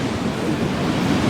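Rough sea surf pounds the shore right at the listener's feet, a dense continuous roar of breaking waves mixed with wind buffeting the microphone, loud and close with no pauses.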